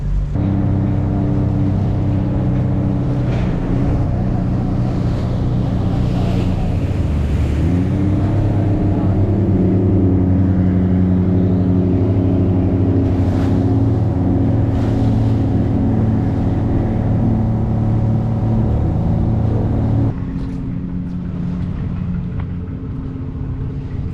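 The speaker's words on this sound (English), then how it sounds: "These are all working boats." Deep, loud engine rumble of working motorboats running nearby in the Maldives, steady droning hum with wind noise, easing slightly toward the end.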